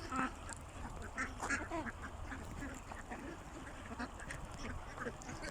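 Scattered quacking from ducks on a duck farm, several birds calling intermittently at moderate distance over a busy, noisy farmyard background.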